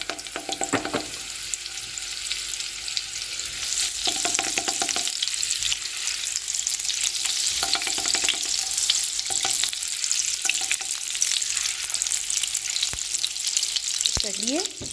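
Steady, loud sizzling and crackling of butter and garlic frying in a pan, with occasional stirring scrapes throughout.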